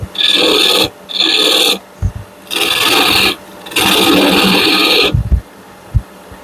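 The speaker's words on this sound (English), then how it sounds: "I'm going to use my little spindle gouge." A spindle gouge cuts wood spinning on a lathe, a loud close rasping hiss in four sustained passes of about a second each, separated by brief pauses and light knocks.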